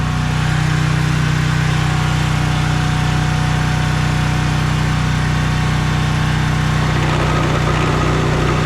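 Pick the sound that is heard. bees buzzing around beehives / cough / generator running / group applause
generator running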